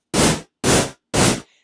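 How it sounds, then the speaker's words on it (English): Three short bursts of hissing white noise from a Massive synthesizer, each about a third of a second, separated by brief silences; bright, even static with a soft tail on the last. "Lastly, we're going to add a little bit of white noise."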